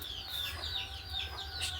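Young spotted chickens, around a month and a half old, cheep and cluck in quick repeated bursts at a poultry farm, faint calls layered over a constant low background hum.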